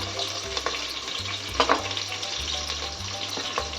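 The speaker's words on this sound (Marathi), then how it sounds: "आता आपण यामध्ये टाकूया कांदा" Onion sizzling and frying in a pan of hot oil with whole spices and green chilli, a steady close crackle with a few brief stirring clatters, no voices.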